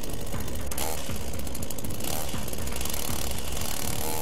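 A chainsaw motor in a visual novel game sputters to life and runs with a loud, continuous mechanical rattle and buzz, steady throughout without pause.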